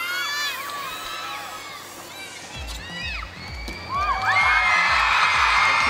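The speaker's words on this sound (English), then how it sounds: "The crowd's getting a little bit louder, getting ready for her second vault." Crowd at a gymnastics meet before a vault at the 2013 U.S. Classic senior competition, a steady roar with whoops and whistles under a commentator's voice, swelling louder toward the end as running footfalls thump in.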